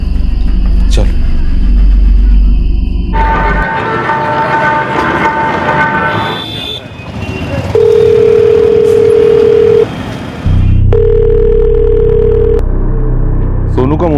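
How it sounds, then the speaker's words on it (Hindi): A phone rings on an outgoing call: two long, steady ringback tones sound loudly after a jumble of dialing beeps and rumbling traffic-like noise. "रिंग तो जा रही है।"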